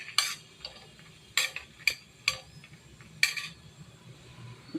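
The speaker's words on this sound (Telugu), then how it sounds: "కొద్దిగా ఆయిల్ వేసి ఎండుమిర్చిని దోరగా వేయించుకుందామండి" Dry red chillies fry in a little oil, a faint low sizzle beneath several sharp metallic clinks and scrapes of a utensil against the pan, close by, with no voices.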